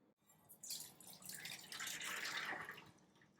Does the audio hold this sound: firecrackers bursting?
no